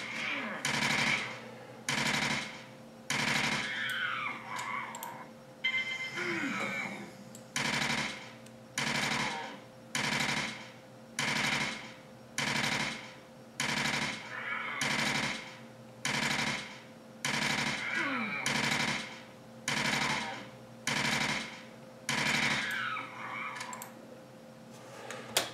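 Rifle gunfire in the online game Entropia Universe: loud, regular bursts of shots repeating about every second, separated by short gaps, with steady game background sound underneath.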